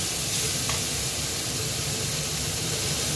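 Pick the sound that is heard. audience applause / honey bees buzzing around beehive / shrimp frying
shrimp frying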